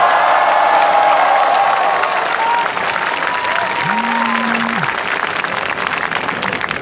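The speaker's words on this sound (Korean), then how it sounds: "뜨거운 박수와 함성을 대통령님들께 보내주시기 바랍니다" A big crowd at a Gwanghwamun candlelight rally in Seoul claps and cheers steadily throughout, loud and sustained, with a brief tone and faint voices rising over the roar.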